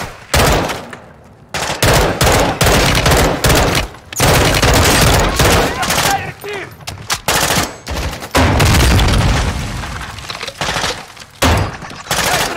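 Three-round burst gunfire in Modern Warfare 2, with loud, close volleys of rapid shots in repeated clusters separated by brief pauses.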